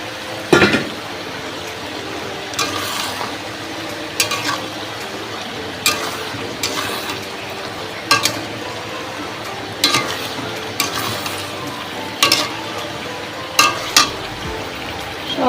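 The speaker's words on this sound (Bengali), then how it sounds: "এবার এই হলুদ লবণ মাখানো মাংসটা কড়াইয়ে দিয়ে দেবো।" Turmeric- and salt-rubbed meat sizzles and crackles in a hot wok, with repeated scraping stirs every second or two over a continuous frying hiss.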